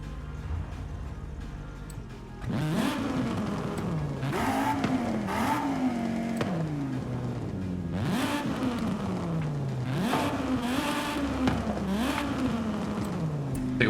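Car engine with a standard exhaust in Streamer Life Simulator revs repeatedly, rising and falling in several surging pulls after a quieter idle start, heard close and fairly loud.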